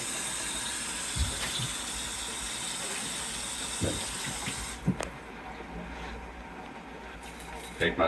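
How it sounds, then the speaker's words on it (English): Water runs and splashes while a container that held old tannin water for an aquarium is rinsed out, a steady close pour broken by a few clunks and a sudden stop near the end. "I'm going to rinse this out."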